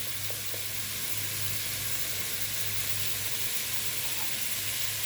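Peppers, carrot and tomato sizzle loudly with crab in a hot pan, a steady, even frying hiss that runs unbroken throughout with no talking.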